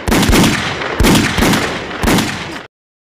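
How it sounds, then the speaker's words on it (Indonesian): Three loud, close bursts of rapid gunfire from a widow at shooting practice, each a dense roughly one-second volley, firing back to back before cutting off abruptly into silence. "sang janda pun, terlihat mulai berlatih menembak"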